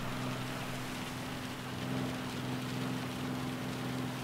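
Rain falls during a race in the video game Gran Turismo 7, a steady close hiss of drops over a low, constant engine drone, with no talking.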